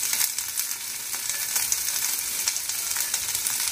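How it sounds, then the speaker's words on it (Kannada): Onion and mixed vegetables frying together in a spoonful of oil, a fairly loud, even hiss of sizzling with faint stirring taps, no voices. "ಈರುಳ್ಳಿ ಹಾಕಿ ತರಕಾರಿನೂ ಹಾಕ್ತೀನಿ ಒಟ್ಟಿಗೆ ಫ್ರೈ ಆಗೋಗ್ಬೋದು ಅಂತ."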